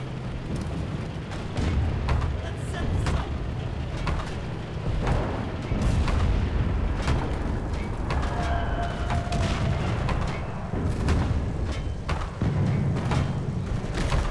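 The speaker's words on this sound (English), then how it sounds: "We need artillery support." An artillery barrage in the WWII shooter Enlisted during the Normandy invasion, with repeated booming blasts and sharp bangs layered over a constant battle rumble. Explosions go off near and far across the whole stretch, and no voices are heard.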